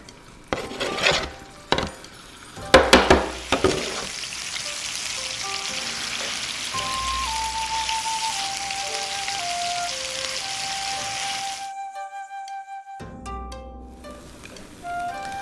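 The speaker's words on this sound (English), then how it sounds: "now we're going to start stir frying until it's no longer pink" Chicken stir frying in canola oil for spicy Thai basil chicken in a home kitchen: a few sharp clanks of utensil against pan, then a steady soft sizzle that runs on, with a faint tonal beep pattern near the end.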